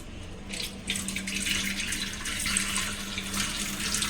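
Water running from a tap into a cooking pot while making sambar, a continuous splashing rush that stays steady and close throughout.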